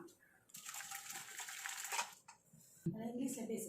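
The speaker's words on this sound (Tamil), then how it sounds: "இதை நம்ம அப்படியே வடிகட்டிடலாம்" Water from boiled vegetables pours through a strainer in a home kitchen, a loud rushing gush lasting over a second, then quieter dripping before a nearby voice speaks.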